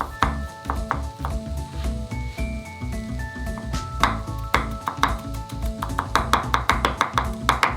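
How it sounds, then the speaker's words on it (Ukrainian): A knife thuds on a cutting board crushing garlic, ending in quick, rhythmic chopping, with light music playing in the background. "Розчавлюємо його ножем і дрібнемо."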